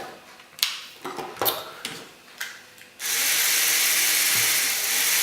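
Lego Technic jeep driven by an XL motor reversed through an electrical switch, wheels turning fast through portal axles: a few short clicks and clatters, then a loud, steady high-pitched motor whine that runs to the end.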